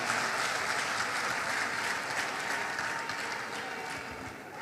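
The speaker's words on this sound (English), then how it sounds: "Can we give him another round of applause" An audience at a stakeholder forum gives a dense round of applause, steady and sustained, slowly tapering toward the end.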